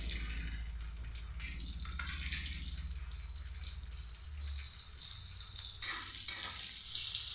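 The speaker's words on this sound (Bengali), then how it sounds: "তেলটাও আমার গরম হয়ে গেছে। দিয়ে দিব সামান্য জিরে, গোটা জিরে, আর দিব পেঁয়াজ কুচি।" Whole cumin seeds and chopped onion hitting hot oil with bay leaves in a pan, a steady close sizzle and crackle with faint stirring clinks, continuous throughout.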